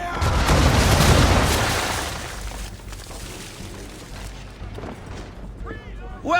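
Broadside of ship cannons firing round shot in a naval battle, a loud booming blast up front that rolls off and fades into a rumbling tail, with a voice briefly heard near the end.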